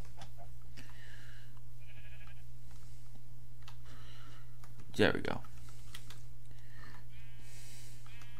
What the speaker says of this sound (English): these big horn sheeps, these guys basically act like sheep in this dimension